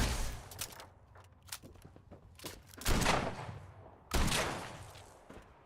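Enemy gunfire aimed at the player in Fallout 76, scattered sharp shots with several heavier bursts of reports spaced a second or so apart, fairly quiet and heard on their own without talk.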